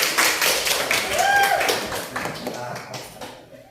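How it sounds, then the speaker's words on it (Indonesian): Classroom clapping during peer teaching at a junior high school in Rajadesa, a brisk patter of hands that swells then tapers off toward the end, with voices mixed in. "Tepuk tangan dulu."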